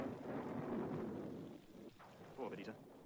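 Wild stormy night in the 1961 animated film 101 Dalmatians: a steady wash of heavy rain with a low rumble of thunder, fairly faint, the rumble easing midway before a brief swell near the end.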